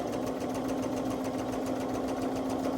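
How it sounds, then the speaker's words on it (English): A sewing machine stitches quilt blocks together in a steady, unbroken mechanical whir with a fast, even hum, close and continuous with no speech. "Take your time stitching your blocks together."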